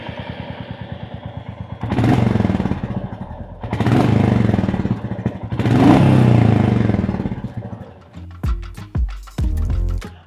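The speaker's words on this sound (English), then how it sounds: "Even the exhaust muffler is new, and it has a nice raspy tone to it." A Royal Enfield Goan Classic 350 bobber with a new exhaust muffler idles with a raspy, throbbing beat, then rises in three loud revs, ending with short sharp throttle blips close by.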